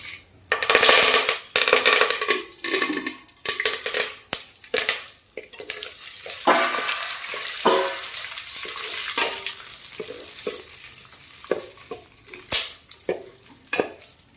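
Asafoetida, star anise, cinnamon, cumin, cloves, curry leaves and bay leaf crackle in hot oil, with irregular bursts of sizzling and spattering alongside scraping stir strokes, close and fairly loud, rising and falling throughout.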